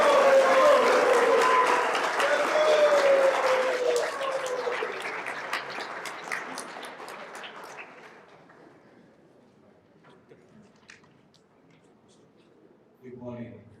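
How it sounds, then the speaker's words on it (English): A hall audience at a Scrabble tournament in Accra gives a big round of applause to welcome the president of the Scrabble Association of Ghana. The clapping starts loud and fades over several seconds into near silence before a voice begins speaking. "please help me with another big round of applause"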